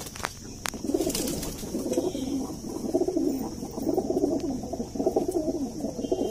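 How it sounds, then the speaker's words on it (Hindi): Repeated soft, low coos of a Kamgar pigeon rolling in a steady rhythm, fairly close, with faint chirps and background birds behind them. "ये जी कमगर कबूतर है"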